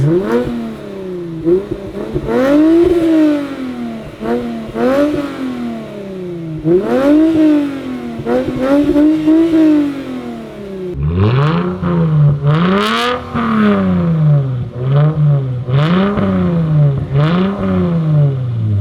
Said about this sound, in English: It's a muffler and resonator delete.